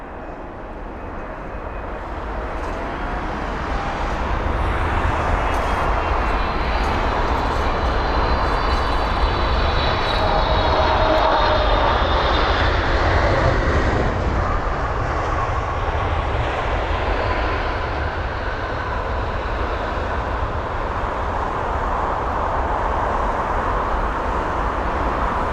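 A six-year-old Qatar Airways airliner arriving at London Heathrow from Doha roars overhead. Its jet noise swells and then holds as a loud, steady, broadband rush with a faint high whine, and no one speaks.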